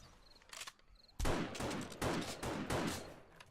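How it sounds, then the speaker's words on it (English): Rapid bursts of gunfire shooting big zombies in the 7 Days to Die video game, loud overlapping shots in quick succession after a quieter opening with a few faint beeps. "I'm taking out these big guys. I get a few bullets in."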